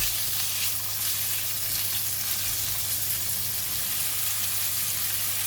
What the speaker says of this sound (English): When the oil is hot, I'm going to put in the pork belly. We're gonna cook the pork belly first.